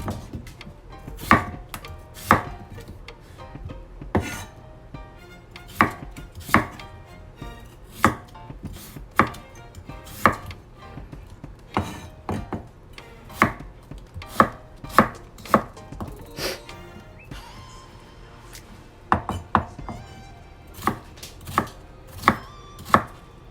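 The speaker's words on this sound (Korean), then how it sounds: "감자도 작게 썰어주시면 됩니다." Knife chopping potatoes into small pieces on a cutting board, a steady run of sharp, close taps in quick bursts with brief pauses between them, no voices present.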